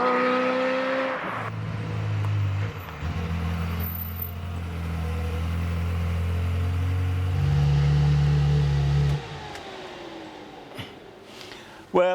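A Ferrari F355 runs under load, its engine droning steadily and loud up close, climbing and holding pitch through the gears before easing off near the end.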